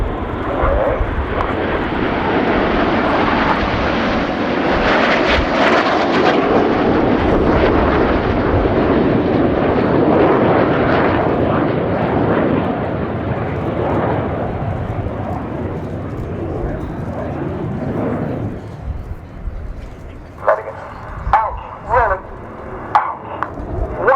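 A Panavia Tornado jet roars loudly past at an airshow, a powerful sustained engine rush that fades away over about twenty seconds, leaving quieter ambient noise and a commentator's voice.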